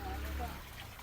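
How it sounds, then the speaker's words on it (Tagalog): Water trickles steadily in a koi and goldfish pond, a continuous soft babbling wash with faint murmuring voices underneath. "Marinig mo lang yung lagaslas ng tubig na yan"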